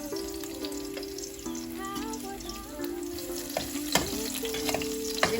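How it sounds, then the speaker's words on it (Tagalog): Garlic and onion frying in a pan, a steady close sizzle with occasional stirring clinks and scrapes running throughout, no voices. "i-fry siya ni mga ahos"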